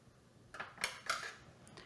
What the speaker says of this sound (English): we're gonna put these back on our roasting pan